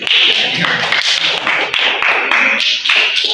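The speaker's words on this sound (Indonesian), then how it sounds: "Tepuk tangan." Students in a classroom break into a round of applause, a dense burst of clapping from many hands, close and loud, lasting throughout.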